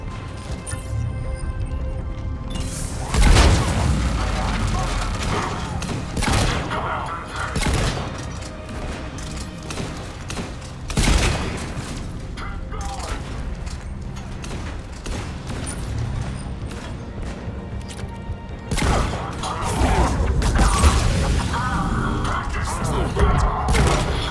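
Turret gunfire from Mass Effect 3 on Omega's Gozu district, coming as repeated bursts of loud cracks and booms scattered across the scene, mixed with game sounds and voices talking.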